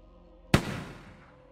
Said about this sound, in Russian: В темноте раздался выстрел.